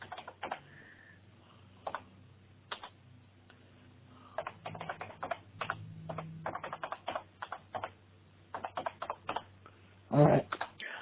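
Fingers tap a computer keyboard in irregular bursts of sharp, quiet clicks, some isolated and some in quick runs, with a louder clack near the end.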